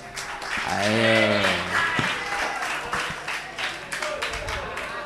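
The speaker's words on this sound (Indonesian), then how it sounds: "Yang ini kasih tepuk tangan ya." An audience at a religious study lecture on logic claps, rising from one voice speaking over the start into a sustained patter of clapping that fades toward the end, with voices mixed in.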